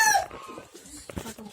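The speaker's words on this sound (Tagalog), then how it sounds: "Manok." Chickens clucking and squawking close by at a farm, short broken calls at the start and again near the end, with faint rustling between.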